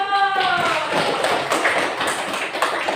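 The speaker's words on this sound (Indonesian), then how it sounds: "Berikan aplaus untuk kelompok 1." A class applauds the group 1 presentation in an Indonesian classroom, a burst of scattered hand claps and taps that begins just after a short spoken phrase and continues at a moderate level.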